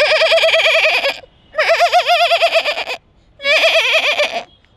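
A person imitates a female goat's bleat: three loud, close, wavering nasal calls with a quick vibrato, separated by short pauses.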